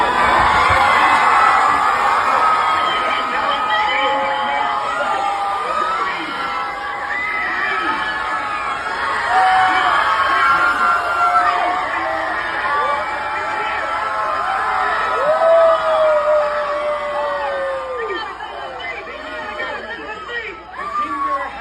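A large crowd screams and shouts continuously, high excited voices overlapping in a dense, sustained roar.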